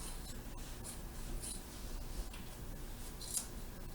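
Scissors cutting green fabric for surgical scrub caps, faint close crisp snips and soft scraping over a low steady background hiss.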